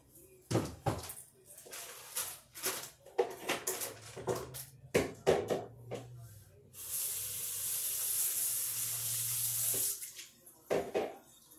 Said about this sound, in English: Rinse them off real good.